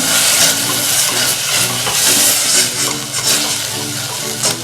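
Chili sizzling as it is heated and stirred in a hot pan, a steady close-up frying hiss with soft scraping stirs throughout.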